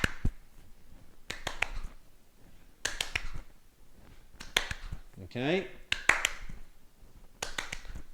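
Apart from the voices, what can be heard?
hand claps before catching a tennis ball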